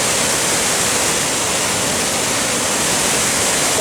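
The Dent de Man waterfall in Man, Côte d'Ivoire roars steadily, a dense, loud, unbroken rush of falling water with no pauses.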